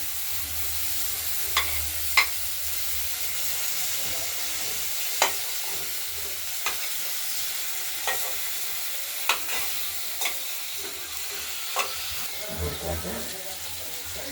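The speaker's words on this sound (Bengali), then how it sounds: "আলু শিমটা ভাজা হয়ে গেছে, টমেটোটাও গলেছে, এবার মশলাটা দিয়ে দিলাম।" Potatoes, flat beans and softened tomato fry with spices in a pan for a Bengali fish curry, giving a steady low sizzle broken by sharp scraping clicks of a spoon stirring at irregular intervals.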